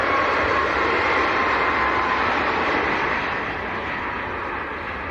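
A Ryanair jet bound for Dublin takes off from Leeds Bradford Airport, a loud, sustained roar of jet engines that holds steady and then begins to fade slightly as it climbs away.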